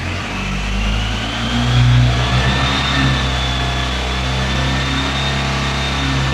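A motorcycle engine revved up to about 4000 RPM and held there during a battery and charging check, a loud, close, steady mechanical drone with a brief rise in pitch early on, then sustained.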